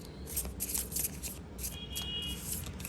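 Soft, rapid riffling of tarot cards being shuffled close by, with papery flutters and taps repeating over a faint background hum.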